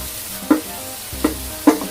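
Seasoned pork lung for bopis hits a pan of fragrant sautéed onions and is stirred, giving a steady low sizzle broken by three sharp scraping clinks at even intervals, close by with no talking.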